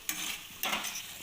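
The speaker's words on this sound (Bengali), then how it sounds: "এবার ভালো করে একটু নাড়িয়ে চাড়িয়ে আমি" A spoon scrapes and stirs cooked flat beans in a pan, with two brief scraping strokes over a quiet background sizzle, close and soft, with no voices.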